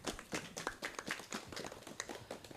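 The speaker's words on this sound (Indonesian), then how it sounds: "Sekali lagi tepuk tangan yang meriah untuk narasumber bertiga." A small audience at a live Banyuwangi talk event claps for the three guest speakers, a quiet, scattered patter of separate hand claps with an uneven rhythm over a couple of seconds.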